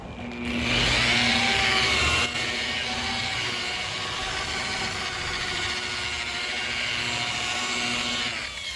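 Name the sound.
rotary buffer polishing car paint with compound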